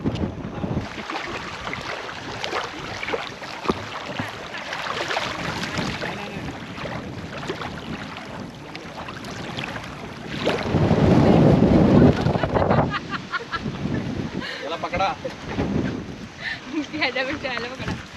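Strong monsoon wind buffets the microphone on Korigad fort near Lonavala, a continuous roaring rumble that swells loudest midway, with someone talking over it.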